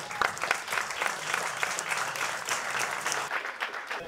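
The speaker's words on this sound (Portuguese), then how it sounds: "Palmas para ele." An audience at a panel discussion on the Brazilian party system gives Marcelo Issa steady, dense applause as he is called up, close and continuous from start to finish.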